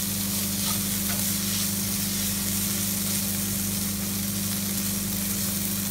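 Prawn masala fries in a pan while it is stirred, making a continuous, dense sizzle close by, with a low steady hum underneath and no voices.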